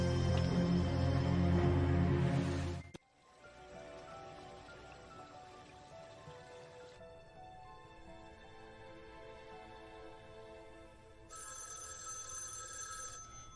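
A telephone rings loudly in a residence with a rapid trilling bell for about three seconds, then stops, leaving a quiet room with a faint background hiss.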